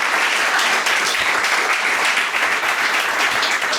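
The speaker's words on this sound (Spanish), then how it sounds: "Pues un aplauso yo creo para todos ellos." Steady, dense applause from an audience after a talk, loud and continuous throughout with no voices over it.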